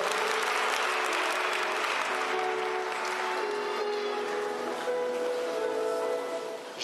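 Church congregation applauding the Lord during a service, dense sustained clapping from many people with some voices mixed in, fading slightly at the end.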